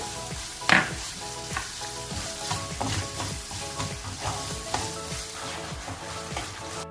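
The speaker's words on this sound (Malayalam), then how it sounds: "നമുക്കിനി ഇതിലേക്ക് പഞ്ചസാര ചേർത്ത് കൊടുക്കാം. നന്നായി മിക്സ് ചെയ്യാം." Potato halwa being mixed in a pan just after sugar goes in: repeated scraping and stirring strokes over a soft sizzle, with a sharper clink near the start, steady and close, no talking.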